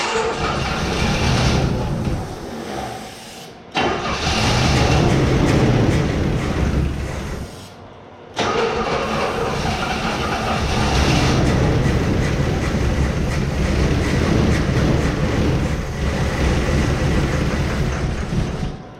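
A Buick Electra engine runs in loud, rough bursts close by, cutting out twice into short near-silent gaps before catching again and running on steadily.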